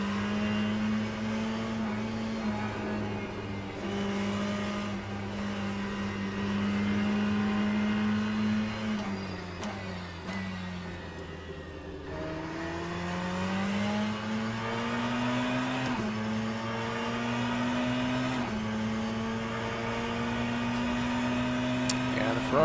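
A Ferrari race car engine in a sim racing game at COTA drones continuously, pitch sliding down under braking and climbing again through the gears, loud and close, with someone talking at times over it.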